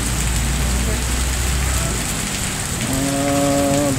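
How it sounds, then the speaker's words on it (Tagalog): Sudden heavy rain pours down on an afternoon street in Bangued, a steady dense hiss throughout, with a voice speaking partway through and a low hum beneath. "Biglang malakas na ulan."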